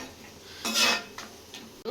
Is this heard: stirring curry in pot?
yes